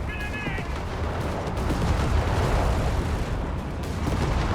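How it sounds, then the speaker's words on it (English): Continuous battle gunfire in Company of Heroes 3, with Crusader tanks rolling in and machine guns rattling, a steady dense roar of shots and blasts throughout, a brief high tone near the start. "Guns blazing."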